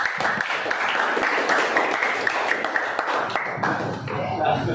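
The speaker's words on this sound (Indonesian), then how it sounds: "Ya, kelompok sedang tepuk tangan dulu." Classroom group applauding during an Indonesian language lesson, a steady wash of clapping from many students close by, lasting throughout with faint voices mixed in.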